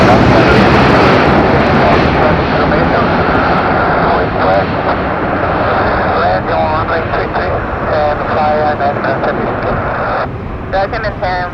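A TAP Air Portugal Airbus A330-900 takes off at Curitiba, its engines a loud, continuous broadband roar that holds throughout, with radio talk faintly under it.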